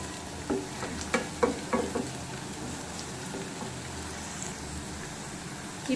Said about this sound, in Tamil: ஆட் பண்ணி நல்லா கிளறி விட்டுக்கலாம்.